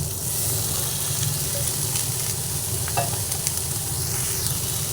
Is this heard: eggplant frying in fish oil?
yes